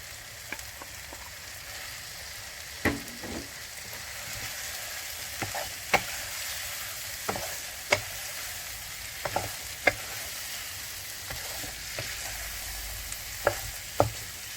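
Potatoes stirred into a frying mutton curry, a low steady sizzle broken by sharp spoon clacks and scrapes against the pot at irregular intervals, fairly quiet and close.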